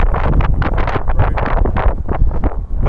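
Wind buffets the microphone on a Royal Enfield Himalayan Scram 411 motorcycle on the move, a loud continuous rushing roar with uneven gusting pulses and no voices.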